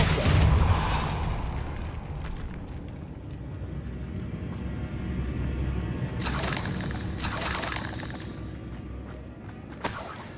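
Depulso force spell in Hogwarts Legacy striking objects, giving two bright swooshing bursts with clattering impacts over a steady ambient game bed, followed by a smaller knock near the end.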